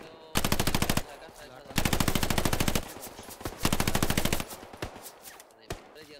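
Automatic gunfire in the World War II shooter Hell Let Loose, three loud sustained machine-gun bursts of about a second each, followed by a few scattered single shots.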